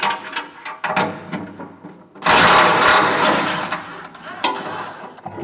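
Socket wrench loosening a nut on a bolt while the fan motor is replaced on a MUSKOX 26-84 snowblower. Quick, close mechanical clicks and rattles come first, followed by a louder sustained grinding burst with scattered clicks.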